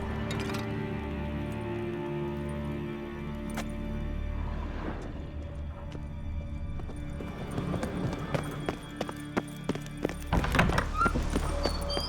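A horse in The Witcher 3 trots and snorts under game music, hooves clopping in a quickening rhythm toward the end along with a few thuds and clinks.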